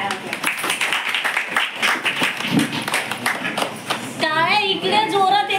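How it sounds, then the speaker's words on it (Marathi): An audience at a Guru Purnima felicitation ceremony clapping loudly in a dense, continuous patter that runs throughout, mixed with voices, and a voice rises clearly over the applause near the end. "सर्वांनी जोरदार टाळ्या वाजवा."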